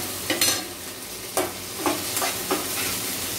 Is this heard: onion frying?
yes